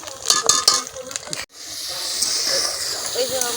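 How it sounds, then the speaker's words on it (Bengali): Spices sizzle and hiss loudly in hot oil in a pan while cooking an egg chhana korma, with clattering stirring early on, then a steady frying hiss. "এই যে মশলা কষানো হয়ে গেছে, তেল ছাড়তেছে"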